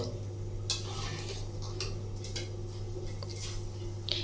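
A spoon stirs and scrapes through a pot of potato curry with lentil dumplings and a little sauce, giving soft intermittent clinks and scrapes over a steady low kitchen hum.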